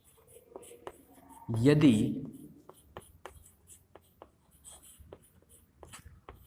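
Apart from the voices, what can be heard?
writing physics notes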